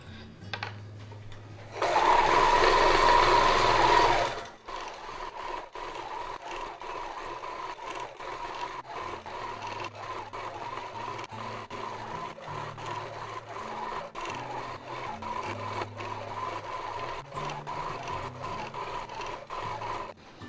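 Handi Quilter Moxie XL longarm quilting machine with Pro Stitcher Lite running an edge-to-edge design on a small quilt: a brief loud burst, then a steady, moderately loud mechanical hum with a faint rhythmic ticking.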